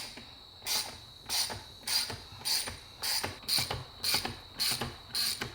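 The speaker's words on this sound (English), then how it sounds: "You need a T30 to remove those 3 bolts" A T30 Torx driver ratchets out steering wheel bolts on a Ford Mustang, making eight evenly spaced bursts of rapid clicking close up with no talking.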